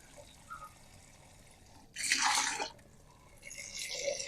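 Water splashes and pours into a wood-ash fertilizer mixture for flowering plants, with a loud gush lasting under a second followed by a second, softer pouring stretch amid quiet background noise.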